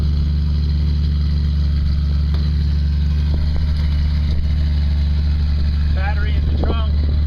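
A 1968 Triumph Spitfire engine runs steadily at idle, a loud, continuous low drone with strong harmonic hum throughout, while a voice chirps faintly near the end.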